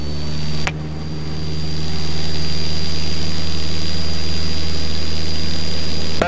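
A light aircraft engine roars loud and close during the takeoff roll, holding a steady heavy drone after a sharp click, with power swelling to full within the first couple of seconds; no talk is heard.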